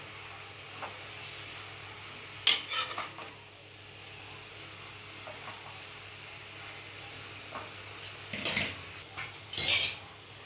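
Vegetables and onion are stirred and mixed in a pan. A utensil scrapes and clinks against the metal in a few scattered bursts over a low kitchen hiss, and there is no talk.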